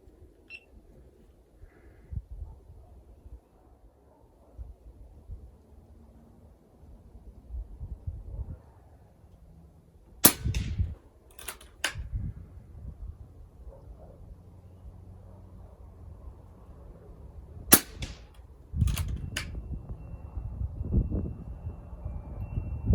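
An air rifle fires Patriot Javelin 23 gr slugs during a ballistic gel test outdoors, two separate bursts of three sharp, loud cracks each, with quiet ambient noise between them.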